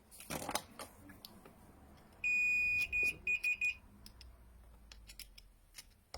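A high electronic beep from an electrical tester checking the coils of a three-phase motor sounds once for about half a second, then pulses in three quick short beeps, clear against a quiet room with faint handling noises.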